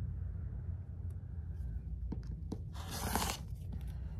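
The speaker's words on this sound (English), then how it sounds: "We're going to cut 1/2 inch off of this side." Fabric for a Carpenter Star quilt block being cut, trimming half an inch off one side to make a 9.5-inch square: a brief crunchy tearing cut midway through, over a low steady room hum, with no talking.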